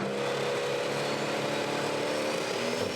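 A roughly 2,000-horsepower pulling tractor at a tractor-pulling championship final, its engine roaring loud and steady throughout with a harsh, buzzing drone and no talk over it.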